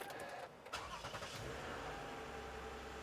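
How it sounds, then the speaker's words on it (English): A Toyota Sienna engine cranks and catches, a quick start burst that settles into a steady idle, heard faintly over about three seconds. "So we're gonna go in the vehicle and start the engine."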